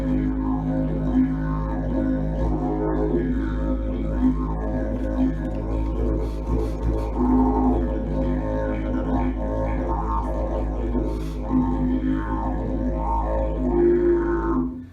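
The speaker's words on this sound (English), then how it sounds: "So now if I make a low sound, it sounds like this." A didgeridoo played at an elementary school holds a deep, continuous low drone for fifteen seconds, steady and loud, with shifting overtones rippling over the sustained buzz and no talking.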